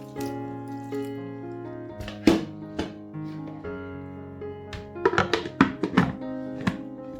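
Water added to a blender of beans, onion and habanero pepper while making akara batter: scattered splashes, drips and dull thunks, sparse at first, then a quicker cluster of watery knocks toward the end, with no talk.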